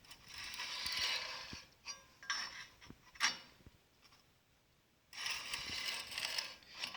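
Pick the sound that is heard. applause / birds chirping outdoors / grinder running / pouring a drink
grinder running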